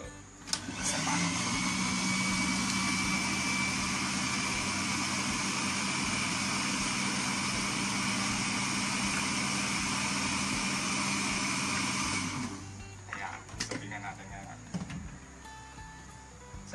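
An electric machine grinding malunggay leaves for cheese puto runs with a steady, loud whirring drone for about twelve seconds, then cuts off and winds down, leaving a few clatters and quiet background.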